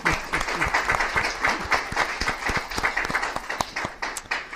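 Audience in a city council chamber in Santa Monica applauding a translator, continuous lively clapping from a roomful of people, steady and moderately loud for the whole stretch.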